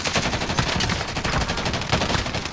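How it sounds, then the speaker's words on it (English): Rapid video-game gunfire from another player, dense bursts of shots crackling steadily and fairly loud throughout, fast machine-gun-like volleys without talk. "There's someone shooting me."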